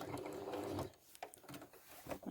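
Home sewing machine stitching a quilt block, running back along an earlier seam line toward the corner: a steady mechanical whir for about a second, then a pause and a few short, quieter bursts of needle action.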